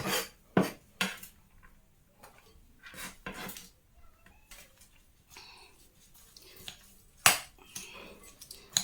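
Plantain kebab ingredients are mixed together in a bowl, giving scattered soft scrapes and sharp utensil clinks against the dish, close and quiet, with irregular pauses.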